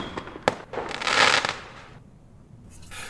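A firework round goes off with a sharp crack followed by a dense crackling burst that swells and fades over about a second, then near quiet with faint rustling.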